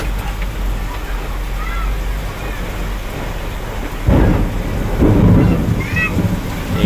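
Heavy rain hammers down in a loud, continuous wash mixed with booming thunder, with rumbling surges midway and faint voices talking in Filipino beneath the downpour.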